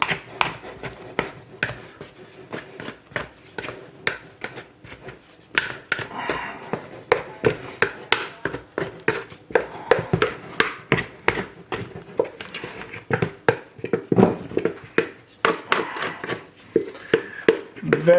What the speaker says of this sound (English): I'm just going to scrape it straight out.